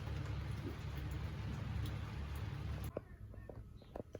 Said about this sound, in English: Wasn't supposed to rain today.